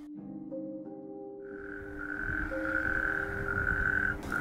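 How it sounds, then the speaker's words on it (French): Frogs croak in a forest at night, a steady chorus of sustained trilling calls layered near and far, with a high continuous trill swelling in over low rustling. "on a entendu des grenouilles qui chantaient"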